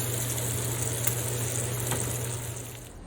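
Bacon-wrapped scallops fry in a hot pan, giving a steady loud sizzle that fades slightly toward the end.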